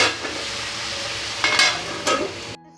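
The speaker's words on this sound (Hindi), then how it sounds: "बस रोस्ट करके बनानी है और अच्छे से फ्राई करके बनानी है आलू और गोभी मुझे" Potatoes and cauliflower frying in a home kitchen pan, a steady sizzle with a couple of louder stirring scrapes near the end before cutting off.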